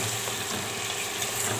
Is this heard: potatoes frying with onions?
yes